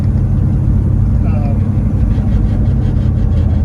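A 1967 Pontiac GTO rumbles steadily while being driven, its low engine drone and cabin noise continuous and close, with someone talking over it.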